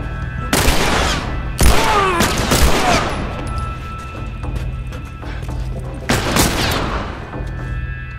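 Gunfire in The Last of Us video game: loud, close bursts of rapid shots in three clusters, with sharp cracks and ringing tails between, and a few brief voices underneath.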